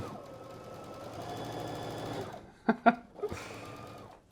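A Brother Stellaire XJ1 sewing machine runs at steady speed stitching a seam, then stops for a few sharp clicks and thumps of the backstitch lever before briefly running again, close and moderately quiet.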